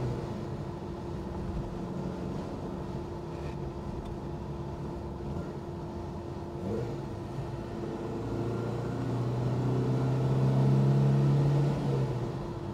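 A 1969 Alfa Romeo GTV 1750 engine pulls through the gears on a rough road, a steady low drone under road noise that swells louder and higher toward the end as it accelerates.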